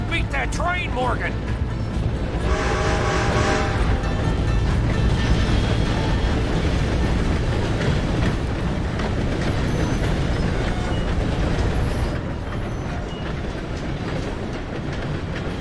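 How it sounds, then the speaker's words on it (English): Train passing in Red Dead Redemption 2: a loud, continuous rumble with clattering wheels, heard under excited shouting voices and game action, easing slightly toward the end. "Gotta beat that train, Morgan!"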